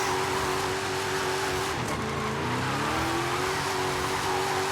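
A Plymouth Barracuda with an oversized engine swap in a lightweight chassis, driven in Forza Horizon 5, drones steadily with a sustained engine note and a brief dip and shift in pitch midway, with no talking.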